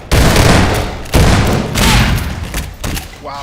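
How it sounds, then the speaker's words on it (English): Loud, close weapon fire in a Half-Life 2 Deathmatch one-on-one duel: heavy bursts and booming blasts in several sustained volleys with short gaps, ending in a few lighter shots and game effect sounds. "Matthew got the nice spam on him, but Atome also got the crossbow on him"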